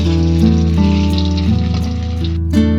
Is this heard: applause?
no